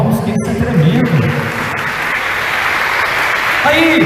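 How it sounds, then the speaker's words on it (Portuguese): A church congregation at a conference applauds loudly and steadily, a broad wash of clapping that a preacher's voice rides over at the start and end. "dá uma salva de palmas, que isso é tremendo"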